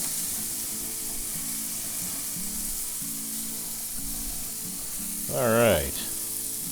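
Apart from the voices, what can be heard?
burgers sizzling on a Weber Spirit gas grill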